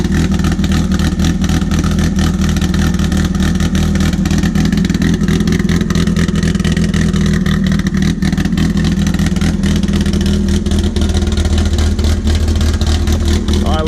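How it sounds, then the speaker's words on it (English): A Volvo race car engine idles with a lumpy, loping beat, loud and close, and keeps up a steady throaty rumble with uneven pulses the whole time. "I figure I'll just let it idle here, get that battery charged."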